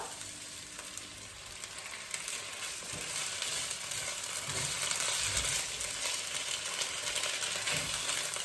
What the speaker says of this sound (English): I'm just going to add my cup of washed lentils here